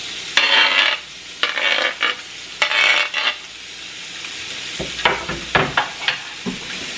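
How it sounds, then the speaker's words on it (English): Food for spaghetti sizzles and fries in a hot pan, with repeated bright bursts of crackling as it is stirred and tossed, loud and close with short pauses between. "Let them fry up."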